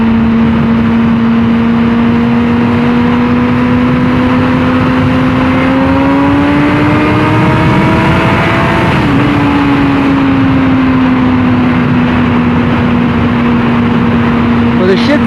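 Honda CBR600RR motorcycle engine with undertail exhaust droning steadily, rising in pitch then dropping sharply at a downshift before settling again, loud and close with wind rush, a voice talking over it.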